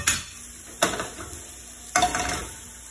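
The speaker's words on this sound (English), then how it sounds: "I'm going to turn these individually because I want to make sure they get. Sear them both sides." Fish fillets sear in a hot pan for fish soup, a steady sizzle broken by three sharp scrapes and clatters as pieces are turned one by one.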